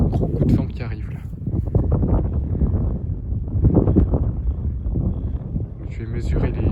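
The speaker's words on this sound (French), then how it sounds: "Puis là on a un gros coup de vent qui arrive là" A strong west-northwest wind gust during a squall line, roaring loud and steady across the microphone with broadband rumble that surges and eases over several seconds; buffeting dominates throughout.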